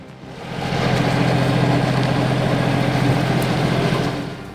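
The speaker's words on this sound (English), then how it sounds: "A custom-built hydraulic firewood splitter, powered by a tractor, leverages hydraulic force to effortlessly divide wood." A custom-built hydraulic firewood splitter powered by a tractor runs with a steady, close diesel engine drone and a low throbbing rumble, fading in at the start and easing off slightly toward the end.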